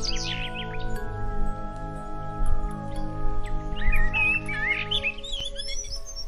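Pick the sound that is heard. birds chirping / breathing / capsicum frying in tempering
birds chirping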